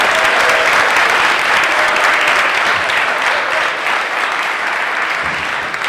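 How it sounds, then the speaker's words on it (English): A room of guests at a Black Business Month mixer in West Palm Beach clapping for an honoree: loud, continuous, dense applause holding steady for several seconds, easing slightly near the end. "let's give Mr. Williams a round of applause"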